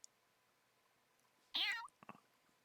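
A cat meows once, close and clear, in Fire Emblem Warriors Three Hopes, with a few soft chirping trills after it and quiet game ambience beneath.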